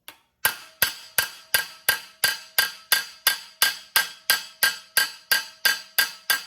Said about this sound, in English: You can see my hammer strikes working it in.